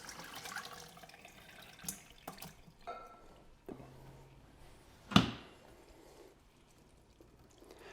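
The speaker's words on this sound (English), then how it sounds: "about to pour off the rest of this poke water." Soaking water from pokeweed being poured off, likely into a sink, in a few faint trickling spills with one brief louder splash near the end, quiet and close.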